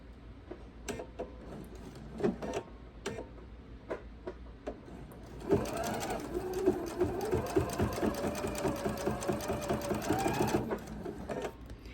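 A sewing machine stitches a quarter-inch seam along quilt binding, with scattered ticks and handling sounds before a steady, fast run of needle strokes takes over midway and continues to near the end.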